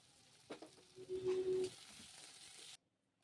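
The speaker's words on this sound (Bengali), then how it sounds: "পেঁয়াজটা এবার একটু ভালো করে আমি একটু ভেজে নেব।" Chopped onions fry in oil with whole cumin and dried red chilli, a faint hiss with a couple of soft stirring knocks before the sound cuts off abruptly.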